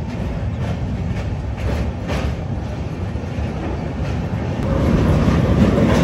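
The Jan Shatabdi Express from Vijayawada to Chennai Central rumbles along at speed, a steady loud roar with rattling wheels and carriages that swells toward the end.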